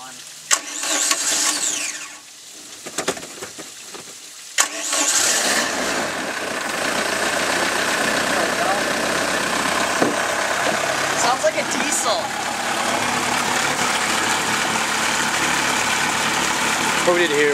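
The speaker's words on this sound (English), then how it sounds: "the engine has to run for about 15 minutes" A boat engine being winterized cranks with a few sputters, then catches and runs steadily at a loud, constant drone.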